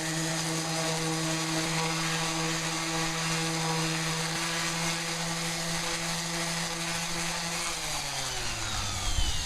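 A power sander smoothing dried Bondo filler on a table makes a steady, loud motor drone with a high whine. It runs continuously, then winds down in pitch near the end.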